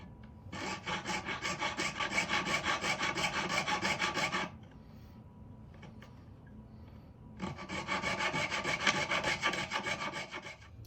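Steady, rhythmic rasping strokes of a saw blade cutting through a coiled copper wire clamped in a vise to make jump rings, in two long bursts separated by a quiet pause, close and fairly loud.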